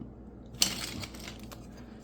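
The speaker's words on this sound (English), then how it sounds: "this is the space bar" A typewriter space bar, a found object, handled up close: a sharp metallic click, then a few faint taps and rattles in a quiet room.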